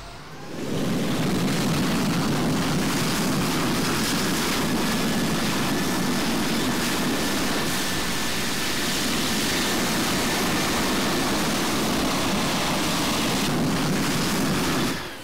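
Aircraft taking off from runway 6 in the flight simulator Infinite Flight, with a loud steady engine roar that swells in at once, holds at full power for the whole stretch and then drops away at the end.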